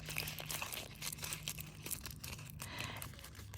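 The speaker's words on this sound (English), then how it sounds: "I crumple the tape up. And I love the sound it makes." Thin copper craft tape being crumpled up by hand close to the mic, a continuous crinkly, crackling rustle with small tearing snaps that runs through the whole stretch without any talk.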